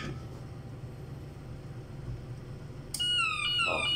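A TD311 electrosurgical machine, running without its plate attached, sounds an abrupt, loud electronic alarm tone after a few seconds of low hum and hiss.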